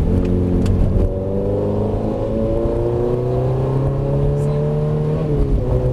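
A car engine drones and revs on a racetrack during a driving course, pitch easing off as the driver brakes into a corner, then climbing again as the driver accelerates out; loud and close.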